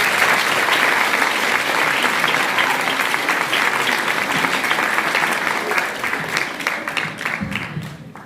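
An audience at a secondary school open night applauds loudly and steadily, a dense wash of many clapping hands that thins slightly toward the end.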